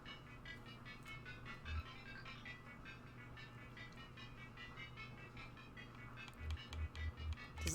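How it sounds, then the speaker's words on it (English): A coin-operated claw machine in the video game Kentucky Route Zero powers up with a steady tonal hum and a looping jingle, then a run of soft rhythmic thumps toward the end, with no talking. "inserts the coin and the machine awakens"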